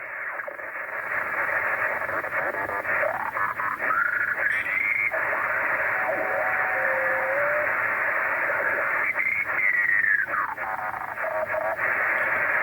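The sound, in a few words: crackling static on 20m amateur radio band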